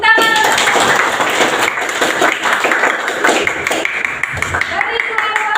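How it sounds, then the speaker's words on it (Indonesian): A class of students at an Islamic school claps in uneven, overlapping bursts, with voices talking and calling out over the hands. "Tepuk tangan."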